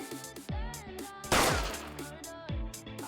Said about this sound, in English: I just heard a single gunshot from outside.